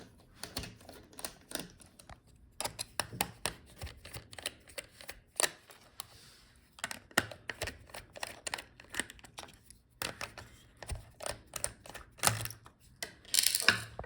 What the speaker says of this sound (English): Now let's disconnect the speaker, pull it up, take out the screws.